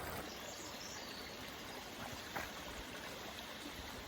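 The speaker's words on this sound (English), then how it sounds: "Cool little creek, little waterfall up above." A small desert creek in Southern California, with a little waterfall, gives a steady soft rush and trickle of flowing water, close and continuous, with no voices.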